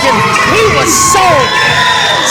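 A professional wrestling crowd cheers loudly and close, with shrill whoops and shouts rising over a continuous roar of voices for the whole short burst.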